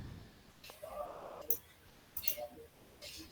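Mouse clicks in quick pairs, faint and close, spread across a short stretch of computer work, with soft background murmur between the clicks.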